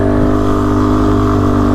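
A motorcycle engine runs hard and close under heavy throttle, a loud, steady, rumbling drone with no talk over it.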